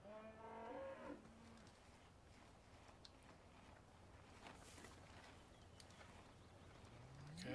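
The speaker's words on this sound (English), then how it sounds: "So here we have our cattle pen." Cattle in a pen in the video game Farming Simulator 17 let out one clear moo at the start and begin another at the end, over a steady hiss of farm ambience.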